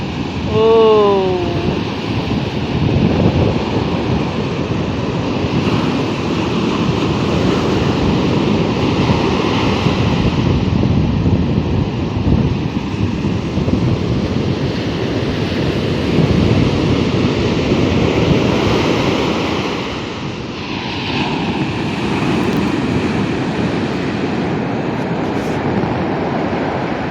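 Big ocean waves roar steadily nearby, a thick rushing surf with wind noise on the microphone; a brief whistle-like sound early on.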